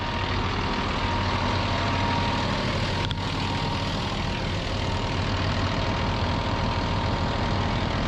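A truck engine drones steadily and loudly while hauling dirt, a thick, continuous rumble with heavy low-end weight and no change in pitch, with no voices over it.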